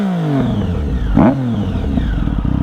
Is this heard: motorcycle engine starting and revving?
yes